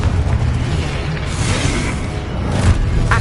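Confringo blasting spell explosions in Hogwarts Legacy on PS5, heard as a loud, continuous booming rumble with crackling bursts and no voices.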